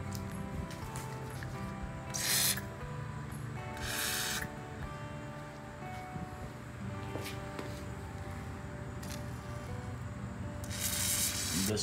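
Short hissing spray bursts aimed at bolts on a John Deere Model 10 trailer, three or four quick blasts spread over a faint, steady background hum.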